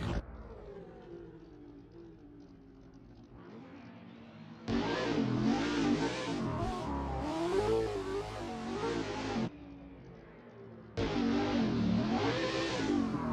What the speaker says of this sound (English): Charlie making his way to the line now on that S15.